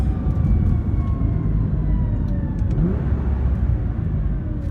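A Nissan R35 GT-R engine with a prototype dogbox drones and revs from inside the cabin, with low rumbling and faint, harsh clunks from gear shifts partway through.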